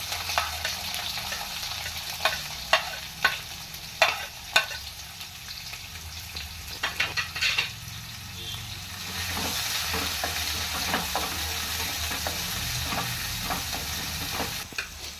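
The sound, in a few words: frying chopped onions for carrot fry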